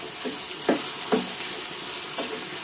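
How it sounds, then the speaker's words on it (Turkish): Chopped onions and garlic sauté in a pan, a steady close sizzle with a few soft stirring clunks spaced across the short stretch and no talking. "Soğanlar tamamen yumuşayana kadar kavuracağız."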